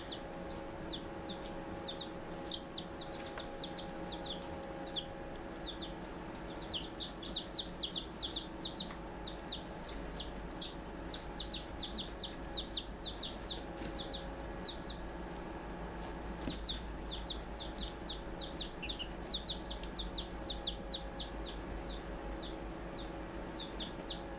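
Young chicks in a brooder peeping and clucking in frequent small clusters over steady background hum, faint and moderately close throughout, with no speech.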